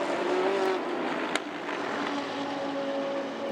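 Race cars at the 2015 Sepang 12 Hours endurance race roar steadily past near turn 4, engine whine rising and falling with one sharp click midway, loud throughout and with no talk over it.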